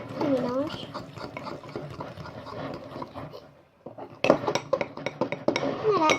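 A spoon scrapes and clinks in a bowl while flour mixture is stirred into a paste, with clattering bursts of dish and cutlery noise and a person talking nearby.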